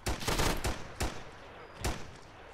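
Gunfire in the video game Arma 3 on a street: several sharp, loud shots in a quick burst, then two more isolated cracks, close and dominating.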